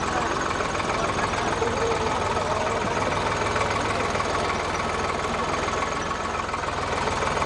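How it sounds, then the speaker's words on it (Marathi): A mini tractor driven at a public event in Parbhani gives off a steady, unbroken engine drone at an even level for the whole stretch. "दानवेंनी लगेचच डोक्याला पंचा बांधून मिनी ट्रॅक्टर चालवला."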